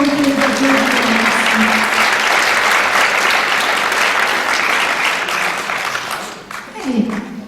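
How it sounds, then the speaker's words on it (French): Applause from the audience at a public meeting on 12 March 2014 fills the room, dense and steady for most of the stretch before thinning out, with a voice briefly heard under it near the start and again at the end. "on peut les applaudir"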